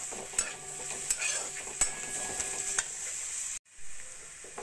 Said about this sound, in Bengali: ধনেপাতা কুচিটা ভালো করে মিশিয়ে নেব।